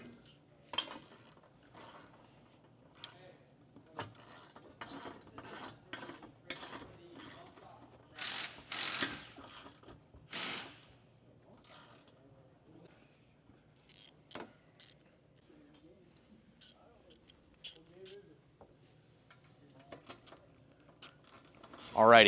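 Ratchet and metal clicks from tightening the hinge bolts on a Jeep door, with 7/32 and 9/16 sockets, come in scattered bursts of mechanical clatter and handling noise, fairly close, with a short loud knock at the end.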